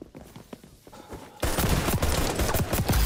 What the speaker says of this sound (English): Turned around and he's still shooting and killed me